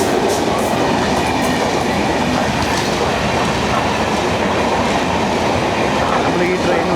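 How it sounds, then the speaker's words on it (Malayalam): The Hazrat Nizamuddin–Ernakulam Mangala Express, number 12618, roars past close by, a loud, unbroken rumble of wheels and carriages that fills the whole stretch. "ആ വരുന്നത് നമ്മുടെ എറണാകുളത്തേക്കുള്ള മംഗള എക്സ്പ്രസ് 12618."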